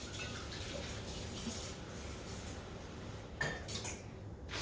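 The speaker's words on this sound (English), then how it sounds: "I'll soak it in cold water." Cold water runs steadily from a tap to soak a Jello-stained towel, a faint, even rushing stream with a brief clink near the end.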